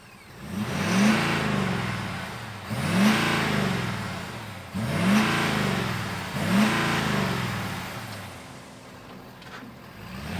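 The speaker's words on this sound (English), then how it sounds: "Let's fire up this monster truck and see if we could go Bigfoot style on throttling" A big diesel engine in a modified 2022 Ford F-350 Super Duty truck revs repeatedly, four rising throttle bursts in steady succession, each swelling and falling back, close and loud.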